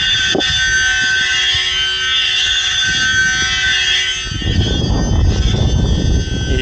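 Flywheel spinning on a Losi Promoto MX RC motorcycle suspected of a fault, a loud high-pitched whine with steady tones that shifts into a rougher, broader whirr partway through.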